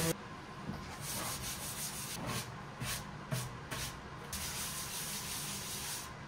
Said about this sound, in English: So we'll just use a little bit of sandpaper, actually pretty rough grit sandpaper. Let's go 60 grit to help prep this thing for the next step.